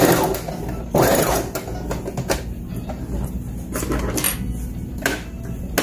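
A sewing machine stitches fabric for a girl's Easter dress, a steady mechanical whirr running through the clip with short bursts and clicks as the stitching starts, stops and backstitches at the end.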